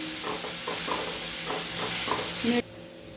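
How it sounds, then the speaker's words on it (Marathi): Jaggery melting in a pan for wheat-flour modak filling, a soft hiss with a few scraping stirs under background music, cutting off abruptly near the end. "आता आपले हे गुळ असं छान आपण वितळून घेऊया"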